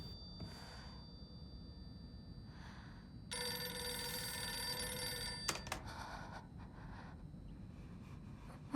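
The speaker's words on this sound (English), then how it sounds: "The phone again, huh?" Telephone ringing inside the Shimizu residence in the video game Silent Hill f, a moderately loud bell-like ring lasting about two seconds amid quiet ambient noise, followed by faint clicks.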